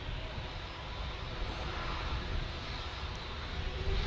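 A TUI airliner rolling down the runway for takeoff at Manchester Airport, a steady, distant broadband jet roar with a low rumble, even and sustained with no voices.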